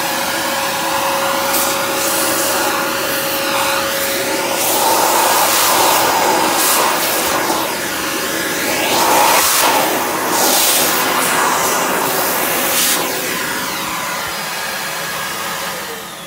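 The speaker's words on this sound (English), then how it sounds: "Utilizing the vacuum on our German roach services" Vacuum cleaner running steadily during a German cockroach pest-control service, a loud continuous whine and rush with shifting suction tones as it sucks up roaches, no talking.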